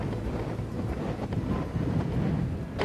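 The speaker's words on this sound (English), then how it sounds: "It's pretty windy and cold as well" Cold, strong wind blows outdoors at Black Mesa State Park, buffeting the microphone with a continuous low, rumbling roar that rises and falls in gusts, with no voices present.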